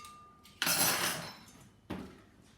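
A glass mixing bowl is handled on a kitchen counter while making a no-bake cheesecake, giving a sharp clattering knock followed by a quieter second clink, close and clear with no talking.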